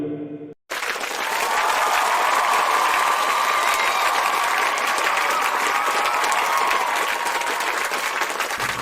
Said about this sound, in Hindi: आपकी जोरदार तालियों के बीच में, जोरदार किलकारियों के बीच में मैं कॉल करने जा रहा हूँ मिस अंजू विरोधिया